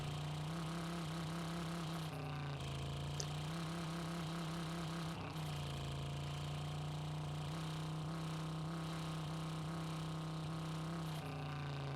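A car engine runs steadily in the video game Drive Beyond Horizons, a low droning hum with brief dips and rises in pitch as it struggles to shift gears, faint and continuous throughout.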